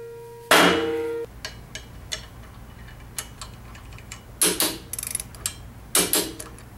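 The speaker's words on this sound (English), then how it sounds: "Once that's on, let's go ahead and mount the crank" A Star Trac Spinner Morse taper crank arm is fitted onto the bottom bracket axle: a sharp metallic knock and scrape, then a string of light ticks and a few clustered hammer-like taps, close and loud.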